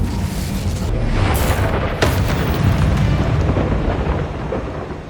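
Incendio fire spell from the video game Hogwarts Legacy, a loud booming fiery blast that swells, sputters and rumbles continuously for about five seconds, with no talking over it.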